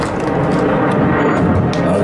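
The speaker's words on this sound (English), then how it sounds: "I'll just pause until this plane passes." An airplane passing overhead during an outdoor bonsai and orchid exhibition opening in Melbourne, a loud, broad, steady roar that fills the whole stretch with no pause or talk.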